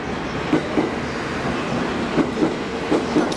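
An out-of-service JR train rolls into platform 3 of a station, bound for Shinagawa. It makes a loud, steady rumble with a rhythmic clickety-clack of wheels over rail joints.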